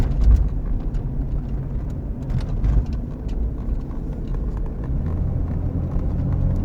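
A 1996 Jeep Cherokee with 11,000 original miles drives down a road, its engine and tyre rumble steady and low from inside the cabin, with faint rattles and thumps along the way.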